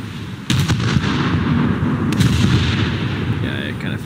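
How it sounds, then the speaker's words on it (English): Cruiser Leipzig's main guns fire in the War Thunder naval game: a sharp, loud salvo boom near the start, then a second blast about halfway through, with rumbling echoes between and someone talking faintly. "going to go for this first salvo here. I'm gonna fire right about there."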